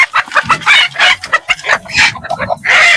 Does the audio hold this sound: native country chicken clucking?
yes